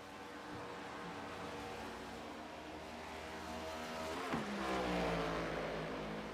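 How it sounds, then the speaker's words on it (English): Race cars circling a Las Vegas oval in the iRacing video game, a continuous dense engine drone with a rising surge near the end, steady and moderately loud with no talk. "Cars are on the racetrack."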